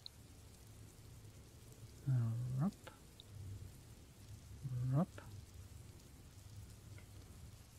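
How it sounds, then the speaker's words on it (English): Steady rain falls as a soft, even hiss throughout, with a voice making two short sounds over it. "The sound of rain. Beautiful."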